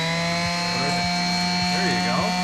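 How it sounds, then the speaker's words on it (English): A power sander sanding the edge of a battery box, giving a steady high-pitched whine with pulsing strokes and a voice speaking over it. "Should we sand it? Okay, let's sand it."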